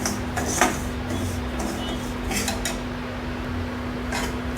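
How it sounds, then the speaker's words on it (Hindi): Semolina being roasted over a medium flame in a pan while stirred continuously for sooji mawa gujiya, giving a steady scraping rustle with light clinks of a spoon against metal throughout. "गोल्डन ब्राउन होने तक मीडियम फ्लेम पे भून लेंगे।"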